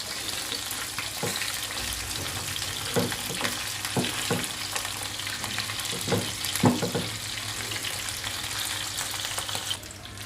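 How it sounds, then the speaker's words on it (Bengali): Pomfret fish fry in oil over medium heat with a constant close sizzle, broken by scattered small pops and spatters. "চুলার আঁচটা মাঝারিতে রেখে আমি মাছগুলো ফ্রাই করে নিব।"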